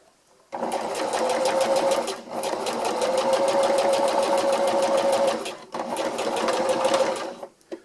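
A sewing machine stitches a hex tarp in two long, steady bursts of rapid needle clatter with a short pause between them, close and loud, with no talking.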